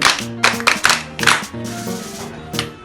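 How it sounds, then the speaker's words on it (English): Several quick, sharp hand claps ring out in bursts in a comedy sketch, close and fairly loud, mixed with a voice talking. "Come on, I clap for her"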